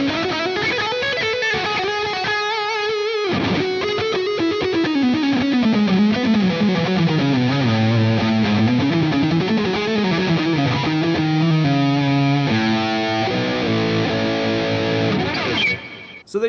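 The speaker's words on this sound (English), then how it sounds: "it's a cinch to conjure up some really epic, soaring lead tones" An electric guitar plays a sustained, singing distorted lead through a PRS Archon 50 Mark II amp, with bends and vibrato-laden long notes followed by quicker phrases, loud and alone.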